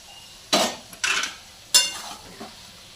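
A spoon scrapes and stirs spice masala in a pan in a home kitchen, with three or four distinct sharp scraping strokes, close and alone against a quiet background.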